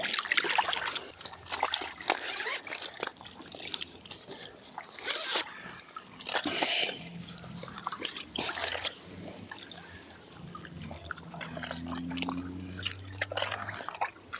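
Water splashes and drips in irregular bursts as a carp is released back into a river in summer, with soft sloshing between splashes and faint voices in the background.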